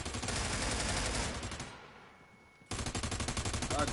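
Rapid bursts of automatic gunfire in a PS4 shooter game, loud and dense, dropping away to near quiet for about a second, then resuming with a fast rattling volley.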